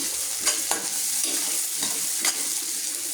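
Rava upma mixture with chilli and tomato sautéing in a pan, a steady close sizzle with a few sharp scraping stirs of the spoon, no voices.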